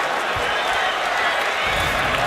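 Basketball arena crowd during a college game between the Arizona Wildcats and the USC Trojans, cheering and applauding in a dense, continuous roar, with a commentator's voice faintly under it.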